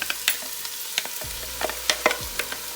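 Herbs and vegetables sizzling and crackling in a pan at medium heat, with scattered pops and the scrape of stirring, fairly quiet and close.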